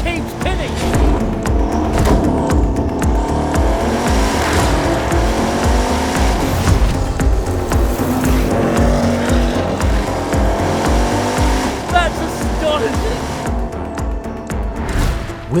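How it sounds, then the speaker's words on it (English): Bugatti Bolide, a track-only 1600 hp hypercar, driving at Paul Ricard circuit: loud engine roaring through rising and falling revs, with gear-change surges and tyre noise, close and strong throughout. "We're at Paul Ricard with Bugatti's monstrous 1600 horsepower track-only hypercar."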